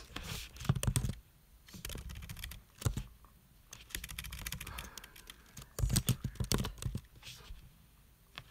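Typing on a computer keyboard in quiet bursts of soft, close key clicks with short pauses between runs, no voices heard.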